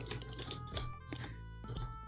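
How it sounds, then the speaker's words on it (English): A computer keyboard sitting behind a drawing tablet is typed on, producing soft, irregular bursts of key clicks that are faint and close by. "The reason I'm typing so weirdly, by the way, is because I've got my keyboard behind my drawing tablet"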